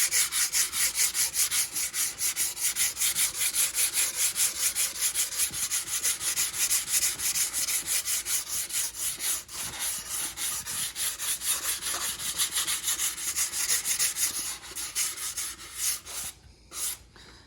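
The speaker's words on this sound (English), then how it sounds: "I'm gonna take my 300 grit sanding block and just go over those areas" Filler on an RC airplane being sanded with a 300 grit sanding block: steady, rapid back-and-forth rubbing strokes, close and continuous, slowing and breaking up near the end. No voice is heard.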